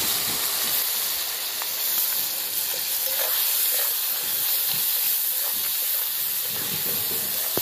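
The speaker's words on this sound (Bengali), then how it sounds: "পেঁয়াজ কলির সাথে সর্ষেটা ভালোভাবে একটু কষিয়ে নিয়েছি" Mustard paste with green chillies and spring onions is stirred and fried in a pan for a Bengali bhola fish curry, giving a steady hiss and sizzle with soft scraping stir sounds throughout and no talking.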